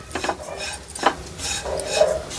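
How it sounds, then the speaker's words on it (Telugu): Grated coconut is stirred in ghee in a pan for coconut chikki, giving a few close scraping, clinking utensil strokes against the pan over a faint sizzle. "మీరు తురిమిన కొబ్బరి కొద్దిగా అంత నెయ్యి వేసి ఇట్లా డ్రై అయ్యేంత వరకు మంచిగా వేయించుకోండి దాన్ని"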